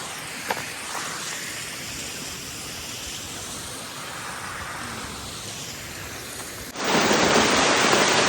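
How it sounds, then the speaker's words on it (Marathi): Rain pours down steadily outdoors in a village, a dense, even wash of noise that suddenly grows louder and heavier near the end. "जरा पाऊस आलाय, जरा नाही तो जास्तच आलाय"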